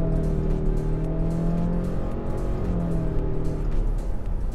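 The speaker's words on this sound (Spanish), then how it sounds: "le voy a pegar al acelerador desde 20 km por hora, carga el turbo, empuja." The turbocharged engine of a 2024 Subaru Evoltis pulls hard from about 20 km/h as the car merges onto a fast road, its loud steady drone rising in pitch under heavy throttle with road noise heard from inside the cabin.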